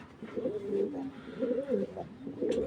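A male racing pigeon cooing close by, in several repeated low, throaty rolling coos in a steady rhythm, with no talking over them.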